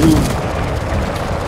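Gunfire in the shooter game Enlisted: a loud, dense burst of battle noise with a sharp report at the start, then continuous rumbling combat sound throughout.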